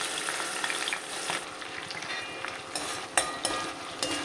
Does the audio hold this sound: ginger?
yes